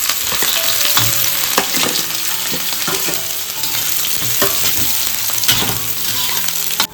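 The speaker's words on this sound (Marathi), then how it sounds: "फोडणीसाठी सर्व कांदा घालून घेतोय." Chopped onion sizzling loudly in hot oil for a tempering, with a spoon stirring and scraping the pan at intervals over a constant dense fry.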